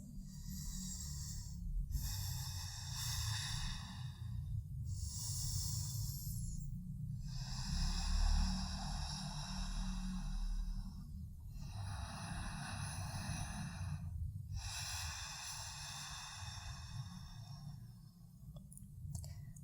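Slow ujjayi breathing during a standing-posture yoga practice: a steady series of long, hushed, ocean-like breaths with short pauses between them, over a constant low background rumble and no talking.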